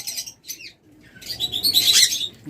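Pet birds kept as an egg-laying breeding pair, with bursts of wing flapping and bright chirps, close and lively, with no voices.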